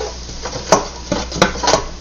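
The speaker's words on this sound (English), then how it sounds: "And stir that around to make it like a roux." Flour is stirred into a pan for a roux, with sharp metallic clinks and scrapes of a utensil against the pan over a soft background, several distinct knocks at close range.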